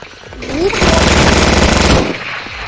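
Sustained rapid automatic gunfire from the most powerful gun in the Roblox game, loud and continuous for over a second between quieter moments, with no speech over it.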